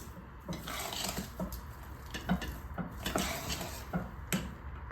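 Sugar being stirred into Ashoka halwa in a metal pan: a spoon scrapes and clinks against the pan in a quick, irregular rhythm, close and fairly clear, with no talk.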